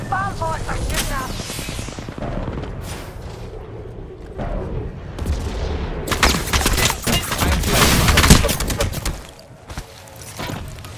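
Gunfire in the battle royale shooter Apex Legends, with bursts of shots and explosions that build into a dense, loud barrage in the second half, mixed with game effects and speech.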